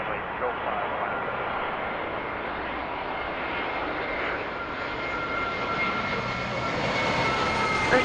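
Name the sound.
Airbus A320 jet airplane landing at Toronto airport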